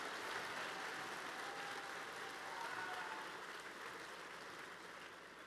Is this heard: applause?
yes